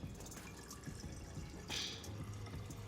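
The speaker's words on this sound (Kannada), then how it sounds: "ನಿಮ್ಗೆ ಎಷ್ಟು ನೀರು ಬೇಕು ಅಂತ ಹೇಳಿ ಅಷ್ಟು ಪ್ರಮಾಣವನ್ನು ಹಾಕುತ್ತೇನೆ" Water poured into a pot on a lit stove while making North Karnataka style holige, a soft liquid splash and trickle rising mid-clip, close and moderately quiet.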